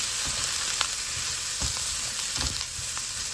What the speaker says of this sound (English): now I'm going to add in my Gardein right into the hot pan